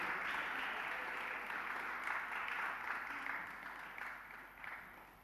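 Applause from a gathered audience at a Jain community religious discourse, a broad continuous patter of many hands that swells slightly in the middle and then gradually thins and fades toward the end.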